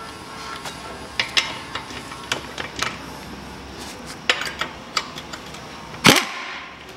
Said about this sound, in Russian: Откручиваю кронштейн, то есть кронштейн хомут, и откручиваю два болта.